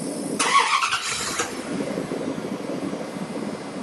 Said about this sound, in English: We start the truck.